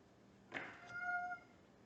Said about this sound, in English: My cat just came out. You hear her crying?